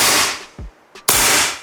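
A semi-automatic airsoft gun fires with two loud, close cracks about half a second apart, each a sharp blast that trails off, separated by a quieter mechanical click.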